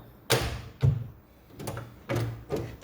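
A house door being shut as someone leaves in the morning, with several separate thuds and knocks spread over a few seconds, fairly close, and no talking.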